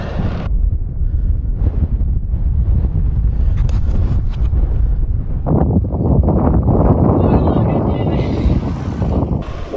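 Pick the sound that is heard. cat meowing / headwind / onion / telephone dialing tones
headwind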